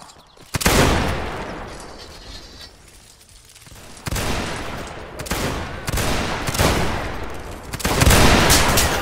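Musket volleys ring out in a Napoleonic wars video game, loud broadband cracks rolling into one another, with a quieter lull before several more heavy bursts follow in quick succession.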